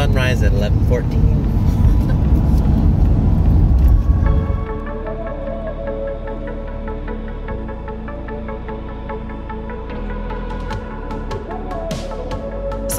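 Car cruising on the road during a long trip, a low steady cabin rumble from inside the vehicle that is heavier at first and then settles into a quieter hum, with faint rattles and clicks over it.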